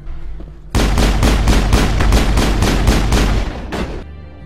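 Gunfire in the video game Mass Effect, a loud rapid burst of about a dozen evenly spaced shots lasting over three seconds, close and dominant.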